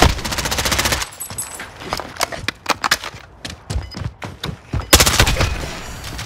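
Rapid bursts of automatic gunfire with frangible bullets ring out in a Hardhat search-and-destroy match in a first-person shooter, with fast rattling volleys, separate sharp shots and short pauses between them, loud and close.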